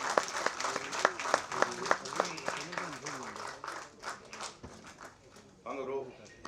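Applause from the audience at the Kuttram Thavir film audio launch event, a steady patter of clapping hands with a few sharp louder claps, running under an announcer's voice and crowd noise.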